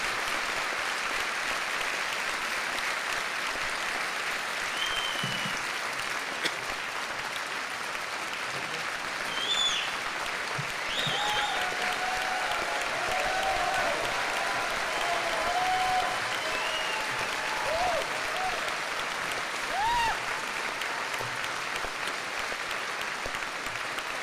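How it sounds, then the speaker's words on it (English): An audience gives sustained applause after a live speech by Dinesh D'Souza in Texas, a dense, steady wash of clapping from a large crowd with a few faint calls mixed in, and no talking. "thank you for that very nice Texas round of applause for Dinesh D'Souza"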